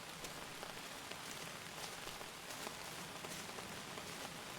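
Soft, steady rain patters on a surface outside, faint and continuous with scattered individual drops.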